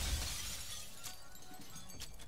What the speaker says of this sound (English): They broke glass.